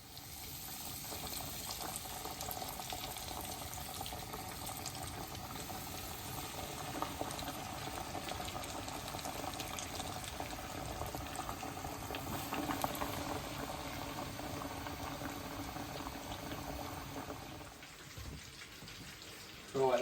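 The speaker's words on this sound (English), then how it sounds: "that's bubbling and crackling and heating away there nicely" Rabbit pieces deep-frying in hot oil in a pot, a steady dense bubbling and crackling sizzle held close and loud throughout, briefly easing near the end.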